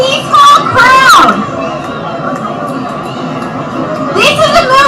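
A large political rally crowd makes a loud, continuous murmur of voices with bursts of cheering and shouting near the start and again at the end.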